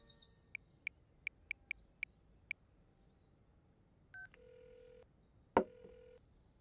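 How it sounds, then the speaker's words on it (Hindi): Touch-tone phone dialing: a quick run of seven or eight evenly spaced beeps as a number is keyed in, then a short ringback tone and a brief electronic burst, all quiet and without talk. "एक मिनट, उसी को फोन करता हूँ,"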